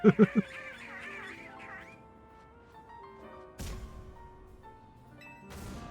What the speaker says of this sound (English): oh, I'm sick of the freaking birds.